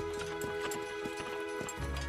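Horse hooves clip-clop in a steady walking rhythm, close and clear, over a low background drone and music in a documentary about Victorian-era farming with shire horses.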